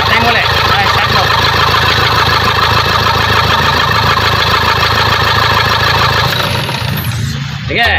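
A Toyota Fortuner engine runs loud and close at a steady idle, a dense rumbling drone, then cuts off near the end and leaves a short quiet tail with faint voices nearby.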